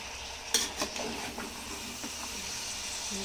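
Vegetables being stirred in a pan over a high gas flame, with a soft steady sizzle and a few sharp scrapes and clinks of a spoon against the pan.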